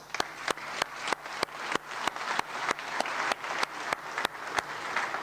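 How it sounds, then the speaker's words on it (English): Steady applause from a crowd at the 2025 World Food Forum flagship event, dense clapping with sharp louder claps standing out, continuous throughout with no voices. "Another round of applause."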